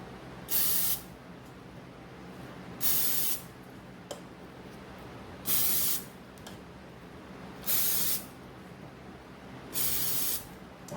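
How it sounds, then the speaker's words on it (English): Cooking oil is sprayed onto frozen lumpia for a Ninja air fryer in five separate short hissing bursts spaced a couple of seconds apart, close and clear against quiet room tone. "I'm going to spray down the lumpia."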